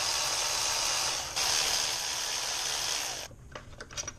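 A ratchet spins out E10 reverse Torx tensioner bolts on a 2007-2013 Mini Cooper R56, giving a dense, continuous buzzing whir for about three seconds, followed by a few scattered clicks and clinks.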